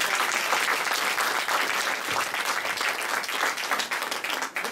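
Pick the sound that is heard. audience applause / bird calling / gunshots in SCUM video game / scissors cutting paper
audience applause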